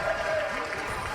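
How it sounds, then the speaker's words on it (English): A crowd at a League of Legends ESL Meisterschaft grand final cheers and applauds in a steady, dense roar, with a commentator's voice running over it. "I think they're cheering ward kills"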